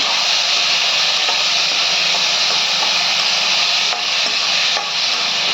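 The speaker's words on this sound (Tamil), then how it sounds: "ரெண்டு பல் பூண்டு எல்லாம் நல்லா வதக்கிக்கிங்க வதங்கி வச்சு தக்காளி போட்டுக்கோங்க" Garlic and tomatoes sauté in a pan with a dense, continuous sizzle and hiss, close and fairly loud, with a few faint scrapes from stirring.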